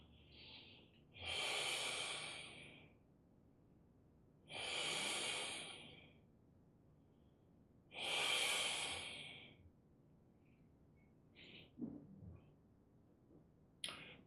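Slow, hissing breaths pass through the nose in Taoist breathing during tai chi practice: three long, even exhalations spaced a few seconds apart, close and soft, with small rustles afterward.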